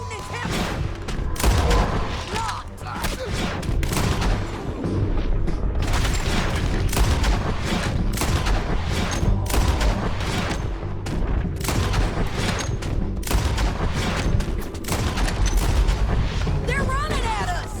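Gunfire in the Red Dead Redemption 2 video game: dense, loud volleys of shots and booms rattling continuously, with voices talking amid the shooting.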